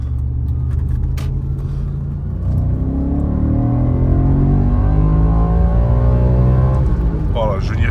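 An Audi RS4 engine rumbles from inside the car, rising into a strong, sustained rev that stays loud and close, with someone speaking at the very end.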